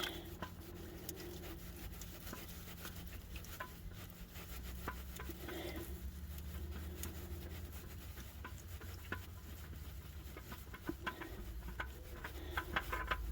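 Old engine oil draining from a 2009 Honda Pilot into a pan underneath, a faint steady trickle with soft rubbing and patter, continuous and low throughout.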